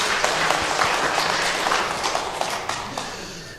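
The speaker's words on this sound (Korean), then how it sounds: "우리 박수로 한번 환영하겠습니다." A church congregation at a Korean Sunday service applauds to welcome a visitor, a steady wash of many hands clapping at moderate distance, fading slightly toward the end.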